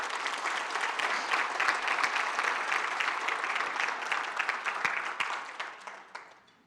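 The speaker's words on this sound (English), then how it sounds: "join me in giving these two organizations a round of applause" An audience at a Brownsville State of the City address breaks into sustained applause, a dense, steady wash of clapping that holds strong for several seconds before tapering off at the end.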